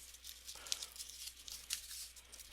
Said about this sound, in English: Crumple those back up.